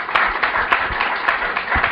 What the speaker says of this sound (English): a round of applause is certainly well merited